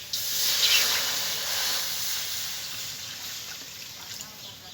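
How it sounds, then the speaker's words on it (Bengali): Water poured into a hot wok on a lit cooking stove to boil jackfruit seeds gives a continuous, fairly soft hiss that slowly fades. "কাঁঠালের দানাটা সেদ্ধ করার জন্য কড়াই আমি জল দিয়ে দিচ্ছি।"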